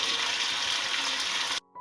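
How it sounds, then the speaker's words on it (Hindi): Garlic-infused water gushes into a pan of chicken karahi, a steady close splashing pour that cuts off abruptly near the end, leaving a faint low hum. "तो ये हम लहसुन वाला पानी इसमें ऐड करेंगे"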